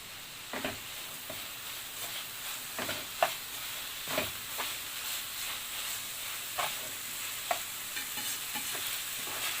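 Liver frying with peppers and onions is stirred in a pan, with a steady soft sizzle beneath a series of scraping spoon strokes that come every second or so, close by.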